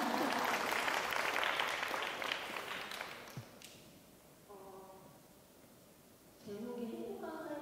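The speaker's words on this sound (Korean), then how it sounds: "박수를 치시려면 과감하게 치셔도 됩니다." Audience applause at a mental health conference in 2016, a broad clapping wash filling the opening seconds and then thinning out, with a speaking voice taking over near the end.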